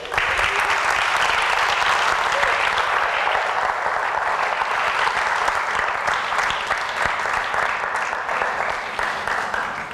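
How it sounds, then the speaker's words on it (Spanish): Sustained, loud applause from a large church crowd, steady clapping filling the whole stretch without pause. "¿Puedes darle un aplauso al Rey?"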